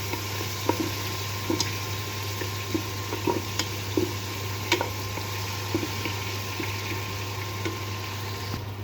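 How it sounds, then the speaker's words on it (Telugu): Onions and green chillies, salted, fry slowly toward golden for a chicken biryani: a soft, steady low sizzle with a few light stirring clicks scattered throughout, no voices. "ఉల్లిపాయలు బాగా గోల్డ్ కలర్ వచ్చినంత వరకు బాగా ఫ్రై చేసుకోవాలి"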